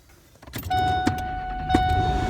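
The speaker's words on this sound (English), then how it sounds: "I'm going to start the vehicle." A 2003 Ford F150 starts up: a brief starter crank rises into a steady engine idle with a thin whining tone, close and fairly loud, alone without talk.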